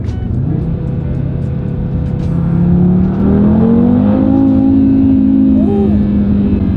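An Audi RS3 turbocharged engine with a carbon intake revs up steadily, its pitch rising as it accelerates in second gear, with a whirring turbo spool-up whine layered over the loud engine drone.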